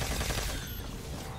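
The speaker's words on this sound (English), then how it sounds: "I'm literally just shooting." Rapid gunfire in Call of Duty Black Ops 3 Zombies comes as a dense, loud burst of overlapping shots, close and continuous through the short moment.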